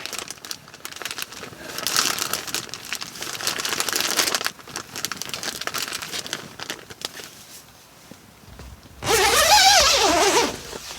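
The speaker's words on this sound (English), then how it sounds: "And for now, I can mix it in the bag." Bread dough is mixed inside a plastic bag in a hot tent, with crinkling plastic rustles that come in bursts, rising to a loud, close scrunching near the end, without any talking.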